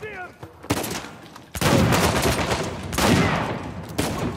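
Gunfire in Uncharted 4, loud bursts of rapid shots in several clusters, close and harsh, with brief gaps between volleys.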